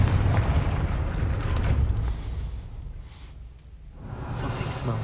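A Confringo blasting spell booms at a gate in Hogwarts Legacy, a loud rumbling explosion that rolls out and fades over a few seconds.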